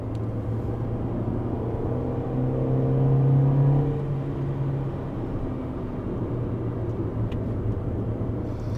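A 1991 Honda CRX VTEC EE8 drives through a short tunnel, its engine a steady, enclosed droning rumble that swells slightly midway and holds evenly throughout, with no talking.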